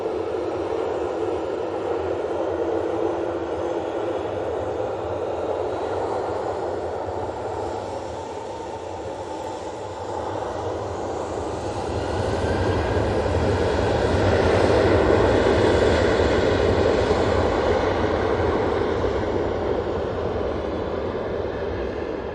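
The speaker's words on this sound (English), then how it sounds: "Ryanair is off to Toulouse" Ryanair jet taking off from Manchester Airport bound for Toulouse, a sustained roaring engine rush that builds louder in the second half, continuous and alone without voices.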